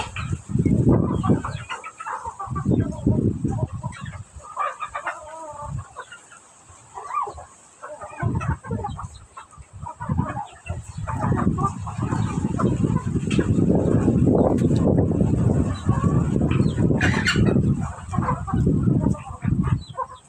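Chickens cluck and squawk repeatedly at close range, with a steady high hiss in the background.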